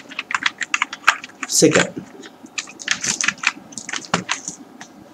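Computer keyboard typing CSS code, rapid bursts of close, crisp keystrokes in uneven runs, with a person briefly speaking partway through.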